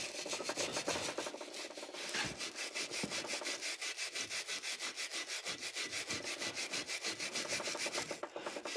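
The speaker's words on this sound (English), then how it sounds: "And get all that carbon cleaned off as best we can." Rapid back-and-forth scrubbing of carbon off Briggs & Stratton opposed-twin engine parts, a steady rhythmic rasping stroke repeated throughout, close and fairly loud with no talking.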